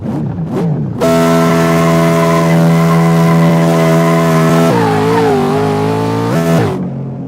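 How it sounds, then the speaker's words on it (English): A car doing a burnout up through fifth gear, its engine holding a loud, sustained high-revving drone close by, the pitch dipping and wavering with each shift amid tire squeal, then cutting off near the end. "I went all the way to 5th gear, and we burnt the piss right out of it"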